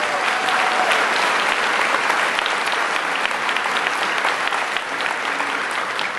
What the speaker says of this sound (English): round of applause for production team